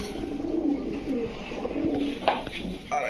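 Soft, repeated cooing from a pair of old-breed Sapchila pigeons, a male and a female, close by and continuous over faint background noise.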